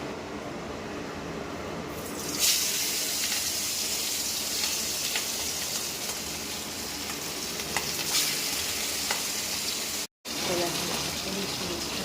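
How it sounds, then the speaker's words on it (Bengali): Food fries in a hot pan on a morning home stove, with potato fry on the menu. A loud, continuous sizzle starts after a short quieter opening and carries on with small pops and stirring taps, broken once by a brief dropout. "ভাজা হচ্ছে।"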